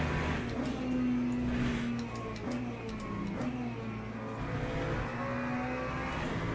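LMP3 prototype race car engines in a racing video game, a steady droning hum of several cars holding constant pitch with faint ticking over the top, fairly loud and continuous with no talk.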